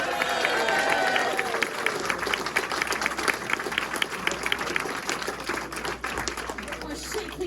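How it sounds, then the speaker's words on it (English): A room at a speedway press conference breaks into a round of applause for the victorious team, scattered close claps and crowd noise with voices mixed in, moderately loud. "let's have a massive round of applause for your victorious ATPI"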